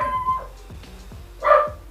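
A dog barks and yips in a few sharp bursts close by indoors, with quieter whimpery tones between the barks.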